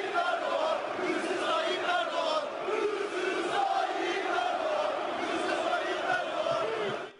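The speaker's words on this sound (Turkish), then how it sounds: "Fenerbahçeliler tezahüratlarında 17 Aralık operasyonuna da gönderme yaptı" Fenerbahçe supporters in a stadium chant anti-government slogans, a large crowd roaring rhythmic shouted chants in unison that carry steadily before cutting off at the end.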